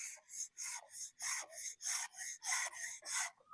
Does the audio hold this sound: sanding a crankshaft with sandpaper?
yes